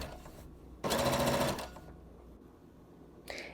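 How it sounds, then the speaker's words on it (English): Sewing machine hemming the bottom of an inside-out skirt, a loud steady burst of stitching for under a second, then quiet room tone and a brief knock at the end. "sew right on that line, or right below the line."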